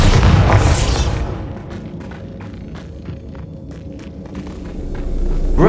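A loud Bombarda blasting-spell explosion in Hogwarts Legacy opens the clip with a heavy booming burst that decays into low rumble, followed by scattered quieter thuds and a rising rumble at the end.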